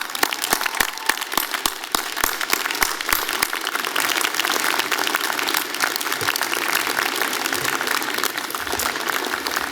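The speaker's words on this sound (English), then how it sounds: "Let's give them a huge round of applause." A large crowd at a university arts and sciences convocation ceremony applauds, starting with a few separate claps that swell into dense, sustained clapping filling the hall.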